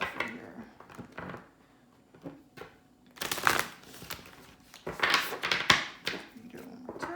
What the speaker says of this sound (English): We need to give it a really good shuffle.